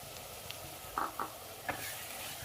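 Chopped onions sautéing in hot oil for a spicy kara kuzhambu, heard as a faint, steady sizzle broken by a few light stirring clinks, with no one talking.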